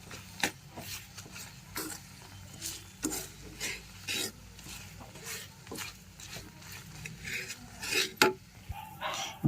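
Cashew powder is stirred into sugar syrup in a pan for kaju katli, giving repeated scraping spoon strokes and light clinks against the metal, with a faint sizzle and a sharper clatter near the end.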